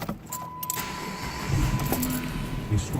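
A car engine cranks and catches almost instantly after a new starter relay is fitted, a low rumble rising midway and settling into a steady idle, with a faint jangle of keys near the start.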